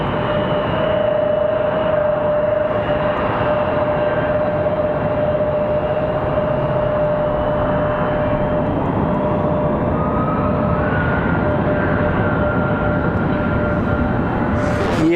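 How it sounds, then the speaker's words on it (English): A United Boeing 737-700 jet airliner at Raleigh-Durham International spools up with a steady whine and broad roar, loud and sustained for about fifteen seconds, the tone rising slightly near the end. "United 737-700 ready to go."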